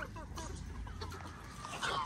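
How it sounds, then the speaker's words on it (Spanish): Hens clucking and murmuring at close range in a farmyard as they peck at maize, a soft busy chatter with a brief higher call near the end. "Estas gallinas me van a dejar pobres de maíz."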